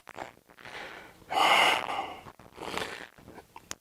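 Breathing during a yoga twist: a few audible breaths and exhales, with a strong, long exhale in the middle and a softer one after, close and alone without talk.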